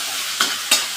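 A spoon stirs raw banana peel paste in a hot, oily pan, with two quick scrapes over a steady close sizzle and no voices.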